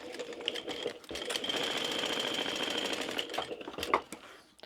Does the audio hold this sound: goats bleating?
no